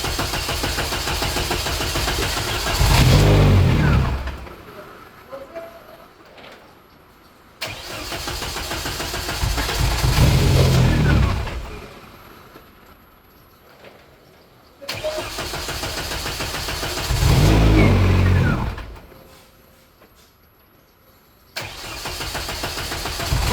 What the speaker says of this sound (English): So it is trying to start this thing